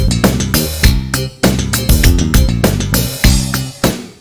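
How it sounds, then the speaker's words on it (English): Organ chords in a homemade song play in a bouncy, rhythmic pattern of repeated stabs, loud and up front, with percussion hits layered among the notes. "I added some more organ sounds like this."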